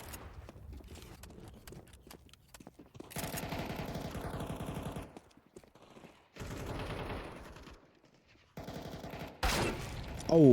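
Bursts of automatic gunfire in the shooter game CS:GO, rapid clattering volleys in short separated strings with quiet gaps between, ending in a louder burst.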